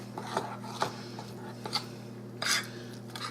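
A 9-inch square baking pan being handled on a kitchen counter, giving several light scraping and clinking metal contacts, close and fairly quiet, spaced irregularly over a low steady hum.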